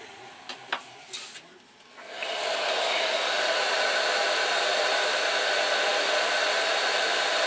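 Handling taps and clicks come first, then a heat gun starts up and blows a loud, steady, close roar for the rest of the time while softening glue stickers.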